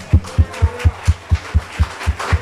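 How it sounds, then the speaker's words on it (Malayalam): Rhythmic, evenly spaced claps in unison from a church congregation, about ten beats in steady time, loud and close with no talking over them. "ഒന്ന് കൈയടിച്ച് പാസാക്കാമോ?"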